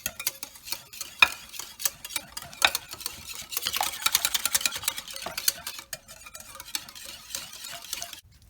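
A whisk or spoon scrapes rhythmically through eggs and orange peel in a bowl for chocolate cake batter, quick close clattering strokes that intensify midway then ease off, with no talking.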